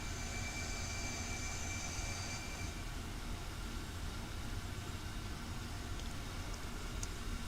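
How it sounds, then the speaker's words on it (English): A small airplane's engine drones steadily as the aircraft climbs after takeoff, a continuous loud rumble with a faint high whine fading early, no speech. "I want to get the engine sound where everybody can hear it"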